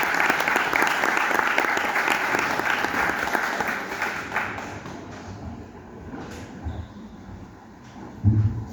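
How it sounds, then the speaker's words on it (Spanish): A hall audience at a Lima book presentation applauds loudly for several seconds; the dense clapping thins and fades out toward the end, where a few thumps and shuffles remain. "Por favor, aplausos para ella."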